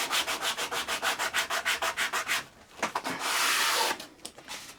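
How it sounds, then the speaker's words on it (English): Hand sanding wooden moulding with sandpaper: a steady rhythm of about a dozen quick back-and-forth rubbing strokes, close and clear, then a pause, a few scrapes and one longer sustained rub. "and sand the first one, move into the second one"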